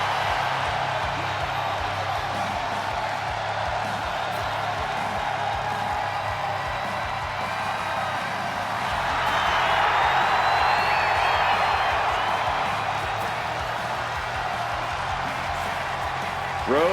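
Arena crowd in the WWE 2K25 wrestling game, a steady roar of cheering that builds partway through, with scattered whoops rising over a continuous mass of voices and no clear speech.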